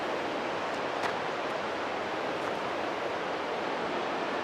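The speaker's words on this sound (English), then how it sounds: "You can probably hear Waterfall in the background. That's Lower Reid Falls up this trail." Lower Reid Falls near a gold rush cemetery in Skagway, heard as a steady broadband rushing hiss of water from some distance, constant and even throughout with no talking.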